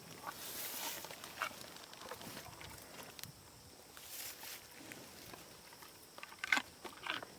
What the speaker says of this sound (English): Wow, that was a crunchy one.